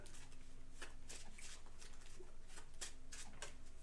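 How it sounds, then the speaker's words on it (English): Playing cards for the Power Rangers Heroes of the Grid board game are shuffled in repeated riffling bursts, fairly faint and close, over a steady low background hum. "We're already shuffling."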